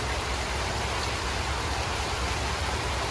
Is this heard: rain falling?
yes